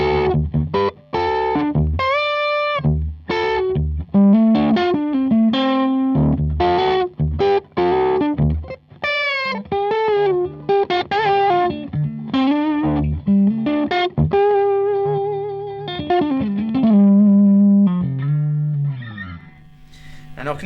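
Electric guitar played through a Boss ME-70 multi-effects unit on its blues distortion setting, a continuous driven run of overdriven notes and chords with sustained tones, close and loud throughout.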